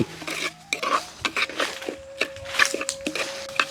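Curry for noodles is stirred in a cooking pan, a metal spoon knocking and scraping against the pan in quick, close, repeated strokes with a faint sizzle underneath.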